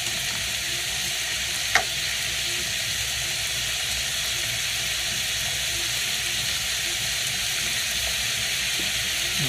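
Onions, tomatoes and garlic powder sauté in a pan, giving a steady, even sizzling hiss throughout with one small clink early on, no voices.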